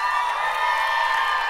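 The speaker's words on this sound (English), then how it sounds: "round of applause for this woman." Audience at a talk cheering and applauding in a steady roar with whoops, sustained and loud.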